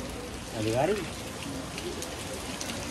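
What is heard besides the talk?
rain falling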